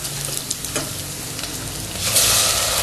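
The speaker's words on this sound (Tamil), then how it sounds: "வெங்காயம் நல்லா வதங்கிடுச்சு சிம்மில் தான் நான் வச்சுருக்கேன்" Onions sauté in oil on low heat for mint rice, a dense close sizzle with a few stirring clicks, swelling louder and hissier near the end.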